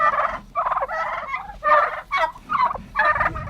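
A flock of farm turkeys kept indoors in a house gobbles loudly and close, five or six bursts of rapid rattling calls in quick succession with short gaps between them.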